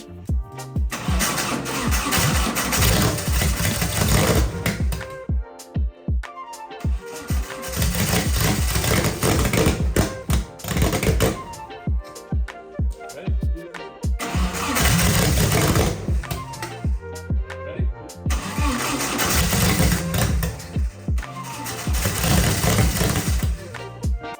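An abandoned 1980s supercar's 300HP turbo engine, fed by a carburetor jetted for methanol that causes fueling trouble, cranks and runs loudly and roughly close by in repeated bursts, cutting out briefly between them.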